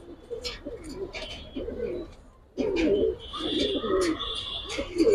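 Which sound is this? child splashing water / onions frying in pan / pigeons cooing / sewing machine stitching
pigeons cooing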